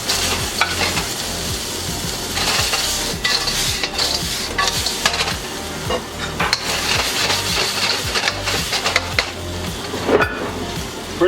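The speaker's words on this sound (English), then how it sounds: "In goes our crab." Crab frying for Hong Kong-style crab, a loud continuous sizzle in a pan with clattering and scraping as pieces are tossed and stirred, close and busy throughout with no voices.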